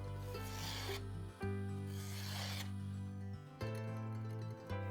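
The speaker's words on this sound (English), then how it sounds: "I take some leather and apply polishing compound, and then I pull the edge towards me to remove the burr" An axe edge is drawn across leather dressed with polishing compound, giving close, steady rasping strokes, about four long pulls with brief breaks between them, quiet and with no talk.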